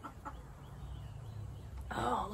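Chickens give a few soft clucks nearby in a yard, then a short louder squawking burst near the end, with a faint hum beneath.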